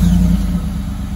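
A Ford F-150 with a Flowmaster 70 exhaust, turned out the side, fires up and settles into a rough, close, loud rumbling idle during a brief moment with no talk.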